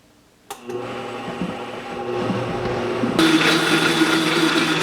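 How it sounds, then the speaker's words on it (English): A blender blending coconut butter whirs steadily after a brief start-up, its motor droning loud and close and growing harsher and louder partway through. "I'm going to keep blending."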